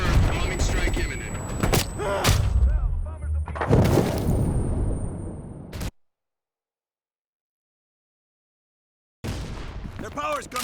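Heavy bombing-strike explosions in Call of Duty: Black Ops Cold War, loud deep booms and rumbling blasts over about six seconds with game voices, then a sudden silence before loud battle noise resumes.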